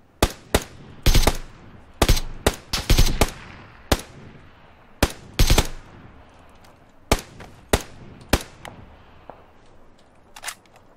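Rapid, sharp gunshots fire in scattered bursts and single cracks during an online multiplayer shooter match, loud and close, with some shots fainter and more distant and no talking over them.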